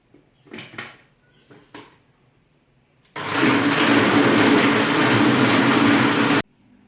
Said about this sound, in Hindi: ब्लेंडर को चला देंगे।